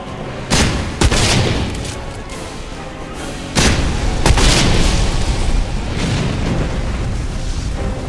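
Launcher weapon explosions in the video game Deadfall Adventures: several loud booming blasts, two near the start and two more midway, each followed by sustained rumbling debris noise.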